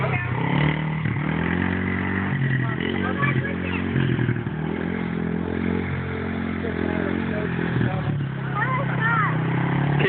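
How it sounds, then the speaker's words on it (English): A five-year-old's dirt bike engine runs continuously nearby during a first ride, a buzzing, droning two-stroke-like rattle that rises and falls slightly, with voices talking over it throughout. "His first day riding a dirt bike."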